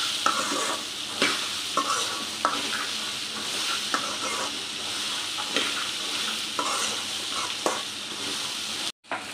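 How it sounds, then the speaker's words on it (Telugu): Black chana stir-fried over a high flame, with a steady loud sizzle throughout and repeated scraping stirs at regular intervals, then a brief drop to silence near the end. "హైలో పెట్టుకొని బాగా మనం ఇది మిక్స్ చేసుకోవాలి"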